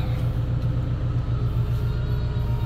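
A Hitachi ZX200-3 excavator with a low-power fault runs its diesel engine at full RPM, giving a steady, loud, close low-pitched rumble that holds constant throughout with no speech.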